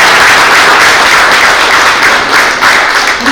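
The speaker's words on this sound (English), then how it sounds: "Can we have a big round of applause for him?" An audience applauds at an evening event honouring Prem Prakash, founder and chairman of ANI, with dense, sustained clapping filling the room at steady loudness throughout.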